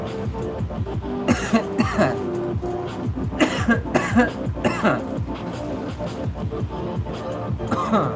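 A few sharp, forceful exhalations like coughs burst out over several seconds, loud and close, separated by breathy pauses and background noise.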